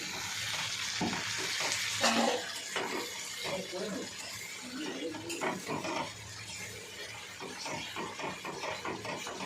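Food sizzles and fries in a pan with ginger juice mixed in, a steady hiss broken by repeated stirring scrapes close by, and faint voices murmuring underneath.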